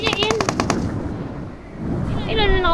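Rapid automatic gunfire bursts loudly in PUBG Mobile, a dense rattling string of shots that fades into a rumbling background before more game sounds and faint voices pick up.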